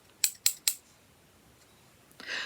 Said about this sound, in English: So the scissors just slide right out.